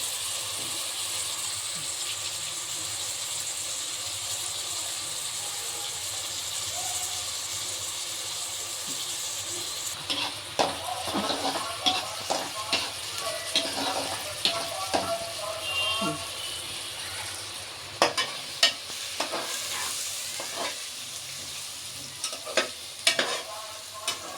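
Ginger garlic paste gets stirred in a frying pan for an Andhra-style goat head curry: a quiet sizzle first, then clanking, scraping spoon strokes that grow more frequent toward the end, with people talking.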